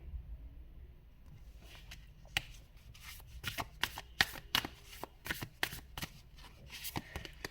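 A deck of tarot cards shuffled by hand up close, with repeated crisp riffling bursts and slaps that come faster and louder after a quiet start, and no voice.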